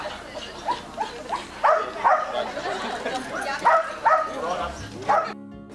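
Sheepdogs yip and bark in short repeated bursts while herding a mob of sheep outdoors in Australia, the calls rising and falling at moderate distance amid ambient noise, with a faint voice also present.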